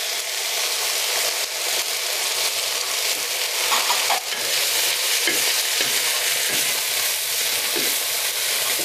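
Tofu and kale stir-frying in a pan with soy sauce and salt, a loud continuous sizzle broken by occasional spatula scrapes and tosses.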